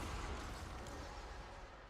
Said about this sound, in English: Oh, it's the 7 cluster cannon.